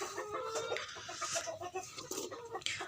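Tiger breed chickens cluck repeatedly on a farm in Chattogram, a busy chorus of close, overlapping hen calls with no talk.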